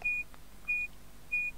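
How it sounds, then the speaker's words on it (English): Three evenly spaced electronic beeps from the Zarch video game, each a short, pure tone about half a second apart, clean and alone against a quiet background. "those beeps are the wrong speed"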